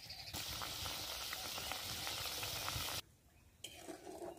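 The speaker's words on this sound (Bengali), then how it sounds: "এই উচ্ছে ঝালটা করার জন্য এই আলুগুলো দিয়ে আরও 5 মিনিট আমি ফুটিয়ে নেবো ভালো করে" A pan of bitter gourd, eggplant and potato curry bubbles and sizzles steadily up close with soft stirring scrapes, then drops abruptly quieter before the sizzle returns faintly near the end.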